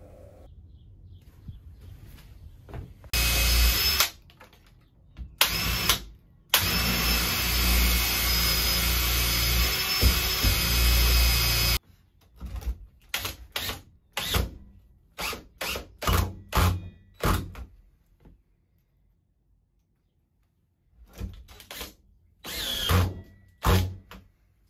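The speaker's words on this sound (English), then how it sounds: "Just drill in some pilot holes on top of the 2x4 and then use 3-inch wood screws to go through there." A power drill driving 3-inch wood screws through pilot holes in a 2x4 frame: a long, loud continuous whir, then a run of short bursts of driving with pauses between them.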